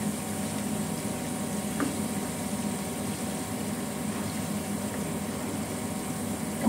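A steady bubbling simmer of liquid in a pot for curry seasoning, a continuous low rumble with faint pops, no voices.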